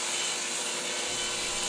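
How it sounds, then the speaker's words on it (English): A saw cuts through half-inch maple plywood, a continuous loud, close rasping whir with no pauses and no voices. "I cut the sides, the back, and the bottom out of 1/2-inch maple plywood"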